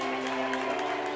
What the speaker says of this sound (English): Blair Field crowd rises to their feet